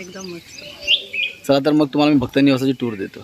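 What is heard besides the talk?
birds chirping in the morning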